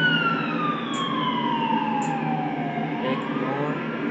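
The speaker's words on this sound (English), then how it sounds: "Ignore that siren." A wailing fire truck siren sweeps slowly down in pitch, loud and fairly close, with a faint horn-like blip repeating over it.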